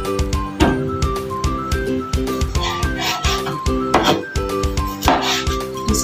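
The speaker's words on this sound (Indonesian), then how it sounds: "kita potong-potong juga sosisnya, guys. Kita potong seperti ini." Rapid, even knife chops through chicken sausage on a board repeat close by, with light clinks of kitchenware and music playing underneath.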